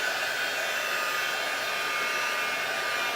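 A heat tool blows steadily and loudly for the whole stretch, a constant airy whir used to heat-set a textured craft product, with no voices.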